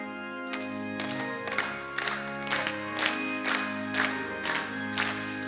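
Congregation at a Wednesday evening worship service clapping a steady beat in time with Korean hymn 323, rhythmic claps over sustained music and singing throughout.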